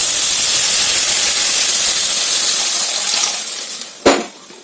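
Milk poured into a hot pan of melted jaggery and sugar, a loud steady hissing sizzle with bubbling that fades over a few seconds, ending in a brief sharp clink near the close.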